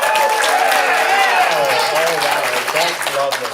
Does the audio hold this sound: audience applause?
yes